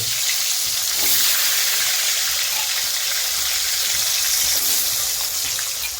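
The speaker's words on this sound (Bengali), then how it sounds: "আলু ভাজা হয়ে গেছে, এরকমই মোটামুটি একটু কড়কড়া করে ভেজে নিতে হবে" Salted, turmeric-coated diced potatoes frying in oil for fish curry, a steady, dense hiss and sizzle that stays loud and even throughout with no talking.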